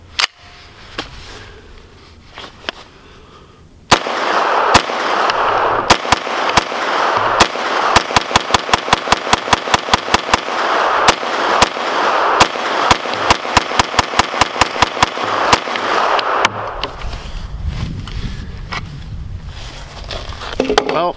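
Rapid semi-automatic gunfire from a CZ Scorpion carbine fed from Magpul magazines at an outdoor range, a long run of loud, closely spaced sharp cracks that starts abruptly and continues for about twelve seconds before stopping.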